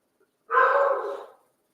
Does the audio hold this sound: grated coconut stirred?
no